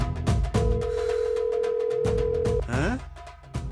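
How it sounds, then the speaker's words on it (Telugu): A phone call ringing on speakerphone in a Telugu movie scene: a steady electronic ring tone holds for about two seconds amid background music, then breaks off. "విను, రింగ్ అవుతుంది."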